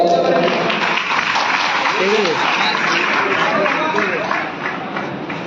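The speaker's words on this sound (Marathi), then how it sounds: "म्हणून सर्वांनी एकदा टाळ्या वाजवाव्या" An audience at a religious gathering welcoming Shivacharya saints claps continuously. The dense applause fills the whole stretch with crowd murmur mixed in, then eases slightly toward the end.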